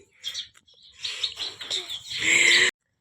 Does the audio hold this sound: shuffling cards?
no